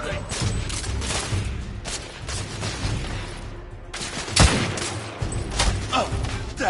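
Heavy sustained gunfire in The Order: 1886, dense overlapping bursts of automatic shots and booming impacts rolling continuously with brief lulls, loud and close throughout.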